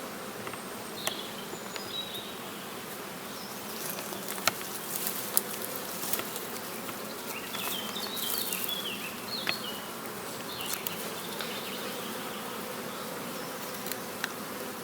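Honey bees buzz around open hives in an acacia apiary while supers are added, a steady outdoor hum with scattered individual bees passing close, fairly soft and without talk.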